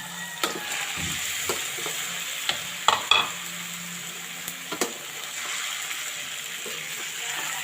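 Prawns for a Bicolano sinigang going into a home-cooking pan, a steady sizzle running throughout with scattered clacks and scrapes of stirring, close and fairly loud, no voices.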